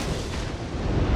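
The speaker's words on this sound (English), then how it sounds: "You can hear that he did eat 1 torpedo" A torpedo strikes the battleship Iowa in the naval combat game World of Warships, a loud, sustained rumbling blast with dense low-end roar that fills the whole moment, with no voices over it.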